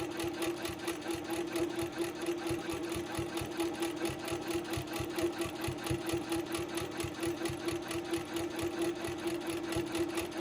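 Quilting machine stitching a quilted postcard panel, a steady fast mechanical chatter with an even needle rhythm running continuously at moderate level, close by and alone with no talk.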